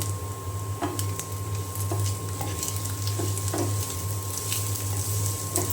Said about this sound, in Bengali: আর এখানে আমি তেলে শুকনা মরিচ আর পেঁয়াজ দিয়ে দিয়েছি, ভেজে নিচ্ছি।